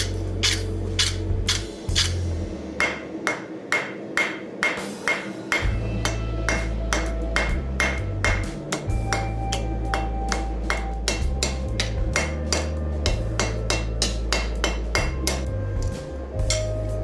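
Steady hammer blows ring out on a steel leaf being forged, sharp metallic strikes in a fast, even rhythm repeated dozens of times, with brief pauses between runs and a low hum of shop noise underneath.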